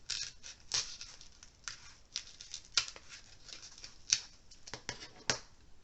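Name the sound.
X-Acto knife cutting a slot in foam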